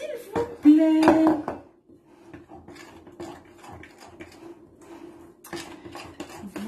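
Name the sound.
stirring chocolate orange cookie dough in a bowl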